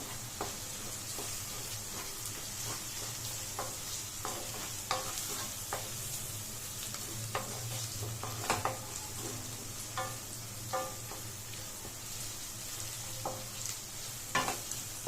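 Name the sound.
stir-frying vegetables with chili powder on low flame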